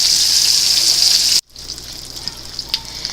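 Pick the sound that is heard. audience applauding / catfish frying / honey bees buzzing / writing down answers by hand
catfish frying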